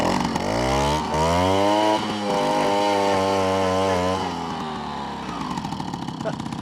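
Old moped engine running after five years stored in a barn, a buzzing two-stroke drone that revs up and holds, then drops to a choppy idle, close by with someone talking over it.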